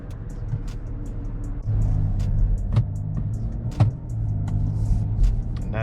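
A 2021 Chevy Blazer 3LT, front-wheel drive with a 9-speed transmission, cruising on the road: a steady low engine and road rumble from inside the cabin, with a couple of brief bumps and clicks, and no talk.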